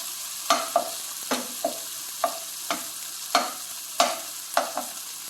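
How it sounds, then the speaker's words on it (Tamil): Tomatoes sautéing for a peas and cauliflower poriyal sizzle steadily in a pan while a spoon scrapes and stirs in repeated sharp strokes, roughly one every half second, close and clear with no talk. "தக்காளி நல்லா வதங்குது பாருங்க"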